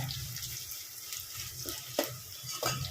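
Dried red chillies frying in oil for a drumstick dal, a soft steady sizzle with stirring clatter and a couple of sharper utensil knocks, close and alone.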